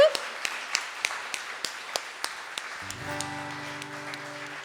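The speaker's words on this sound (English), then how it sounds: "we have a round of applause for Graham" Sparse, thin claps ring out at a music award ceremony, spaced taps from a small audience that fade as a sustained tonal sound comes in.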